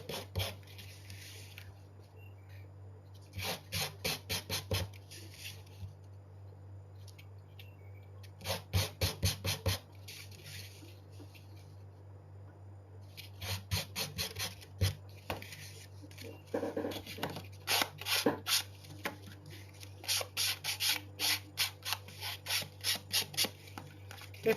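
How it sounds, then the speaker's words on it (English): Sandpaper or a sanding block rasping along the edges of scrapbook paper at a desk, in repeated bursts of quick scratchy strokes with quiet gaps, close and fairly loud over a low steady hum. "I'm going to just sand the edges though."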